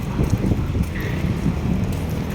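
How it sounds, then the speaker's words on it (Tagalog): Strong gusting wind from stormy, typhoon-like weather buffeting the microphone on a street near Teresa Street and Ramon Magsaysay Boulevard, a heavy low rumble that swells and dips continuously with no speech. "Medyo mahangin nga ngayon kasi masama yung panahon, parang may bagyo."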